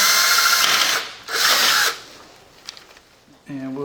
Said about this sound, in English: we got to take an 1/8 inch drill bit